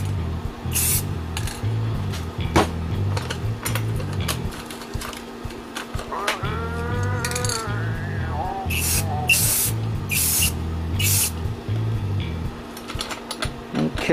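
Short, close hissing bursts from a spray paint can as a coat goes onto an electronic drum shell, spaced irregularly over a steady low mechanical drone, with a brief voice in the middle.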